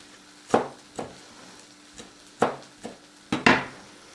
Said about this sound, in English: just chopping some herbs.